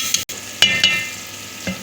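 Peas being stirred into minced meat in a pan, giving a few short scraping stirs over a soft steady sizzle, close and alone.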